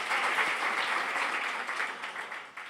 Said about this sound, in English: Melbourne, please make him very welcome with a big, raucous round of applause.